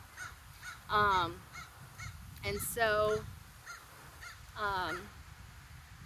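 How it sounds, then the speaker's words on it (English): A crow caws several times in the background, harsh repeated calls in short bursts spaced a second or two apart, fairly clear over a low outdoor hum, with a person speaking briefly. "there's a crow in the background, as you could probably hear."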